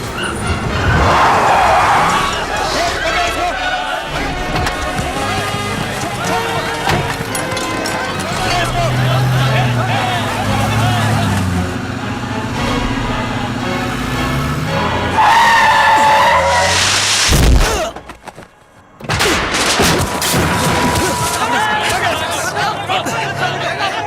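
A car tears away with skidding tyres in a loud, busy street scene. Crowd chatter and voices fill the mix, and a brief near-silence falls before the noise surges back.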